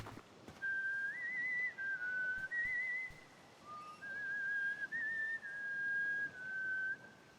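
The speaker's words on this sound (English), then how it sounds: "He serenaded me with his whistle" A character in the video game No Rest For The Wicked whistles a wavering tune, melodic phrases rising and falling steadily for several seconds, clear and fairly close.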